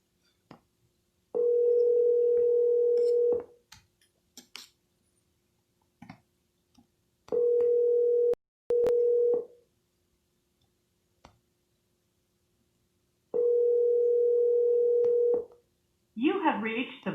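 Outgoing telephone ringback on a cold call: three steady ring tones of about two seconds each, the second broken in two, separated by quiet gaps, before a recorded voice begins at the end.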